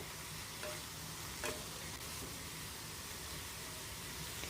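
Fried potatoes and banana flower are stirred in a frying pan for mocha ghonto, with a steady close sizzle throughout and occasional scraping strokes of the spoon.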